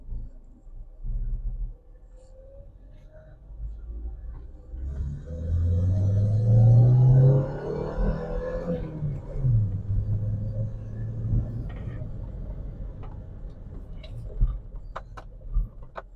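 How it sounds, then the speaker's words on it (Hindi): A CNG-powered car pulls away in first gear, its engine rumbling low and rising in pitch as it accelerates, then settling into a steady drone with a few small clicks and knocks toward the end. "तो भाई अब देख रहे हैं इसको चला के पहला गियर में लगा दी है"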